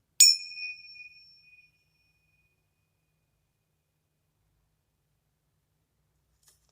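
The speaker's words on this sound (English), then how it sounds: "I used the tincture bells." A single strike of tingsha bells, small Tibetan cymbals, rings out with a bright, clear metallic tone that decays over about a second and a half into near silence, followed by a tiny faint tick later on.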